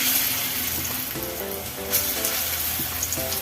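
Dal piyazi lentil fritters fry in white oil, one side browned and ready to turn, producing a continuous close crackling sizzle with soft intermittent bubbling, alone without voices.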